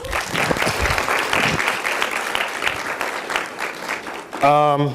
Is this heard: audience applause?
yes